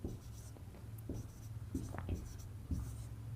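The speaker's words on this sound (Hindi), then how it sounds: "तो लिखेंगे पाइथागोरस प्रमेय से" A pen or chalk writes out the Pythagoras theorem during a Class 10 trigonometry maths lesson. Soft, scratchy strokes come in short bursts with small pauses between them, faint and close.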